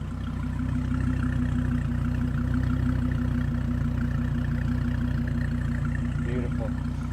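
A 2017 Dodge Viper GTC idles with a deep, steady V10 exhaust rumble throughout, close by, while voices talk faintly over it.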